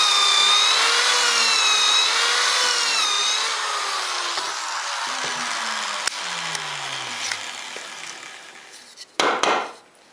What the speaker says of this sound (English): I'll use the other hole to drill the other pocket hole